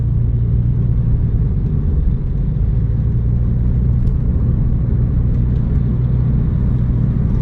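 A car cruises along Canal Road in Lahore at night in light traffic, giving a steady, even interior road rumble with engine hum and no talking.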